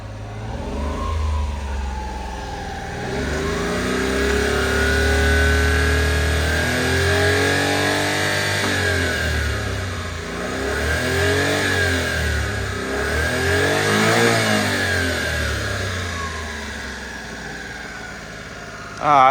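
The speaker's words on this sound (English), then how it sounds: "A little 3-cylinder has quite a nice exhaust note to it, really." A 1995 Honda Acty's small three-cylinder engine idles steadily with a buzzing, throaty exhaust note, its pitch wavering slightly, loud and close throughout, with no voices.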